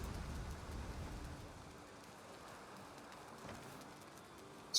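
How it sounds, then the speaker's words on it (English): Steady rain falls in the video game Valheim, a soft continuous broadband hiss that stays fairly even and moderately quiet throughout, with no voices. "It's rainy and it's making me feel absolutely miserable"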